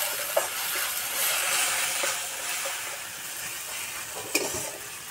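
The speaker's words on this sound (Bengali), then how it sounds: "মশলাটা এইভাবে কিছুক্ষণ কষিয়ে নেব।" Spice paste for a Bengali pabda fish curry fries in oil with a little water, a steady hissing sizzle broken by a couple of sharp spatula scrapes, close and alone without talk.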